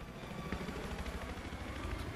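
A helicopter in the video game Battlefield 3 drones with a steady, faint rotor and engine rumble, distant and low, without clear beats standing out.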